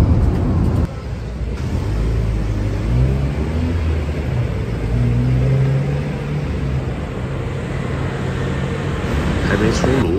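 A car hums along steadily while driving, with a low engine drone and road rumble throughout and a brief engine note change near the start.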